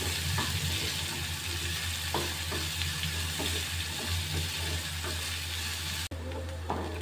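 Chopped onion stirred and frying over a low flame for bun dosa, with a steady close sizzle and scraping stir strokes throughout, alone with no talking.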